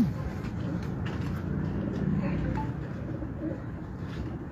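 Pigeons in a loft coo softly under a steady low rumble of background noise, the calls faint and indistinct for several seconds.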